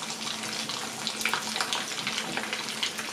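Potato snacks made from leftover potatoes sizzle as they fry in a pan of oil, a steady crackling hiss with scattered pops, close and moderately loud, without voices.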